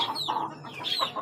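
Hens clucking close by in a brief burst of several soft, rapid clucks and short calls, fairly quiet with no talk over them.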